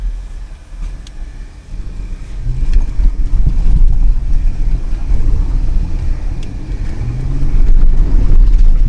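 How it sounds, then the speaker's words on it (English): A Jeep in 4-wheel drive crosses sand with a low, rumbling engine and heavy wind buffeting the microphone, the drone swelling louder partway through and holding steady to the end. "This is where it pays to have a Jeep in 4-wheel drive."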